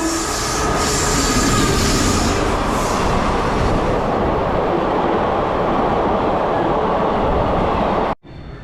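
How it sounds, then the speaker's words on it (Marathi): A Tapovan Express train pulls into a station on the Kalyan–Nashik line, producing a loud, steady rumble of wheels and carriages close by that holds for about eight seconds before cutting off abruptly. "आणि अशा तऱ्हेने आपली ट्रेन आलेली आहे."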